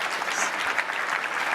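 Sustained conference audience applause at a developer event, dense and steady throughout with no pauses.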